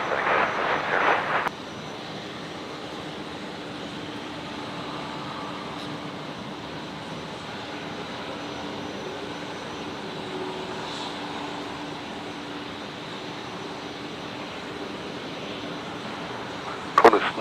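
A Boeing 747 airliner arriving at Brisbane Airport sends a steady, distant jet roar rolling on for many seconds, preceded by a brief burst of louder noise and ending with a sharp nearby knock.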